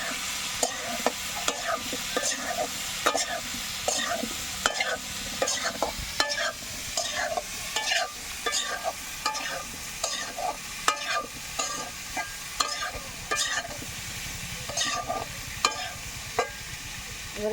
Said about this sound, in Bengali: এবার দিয়ে দেব ফুলকপি। একটু লবণ আর একটু হলুদ দিয়ে ভেজে নেব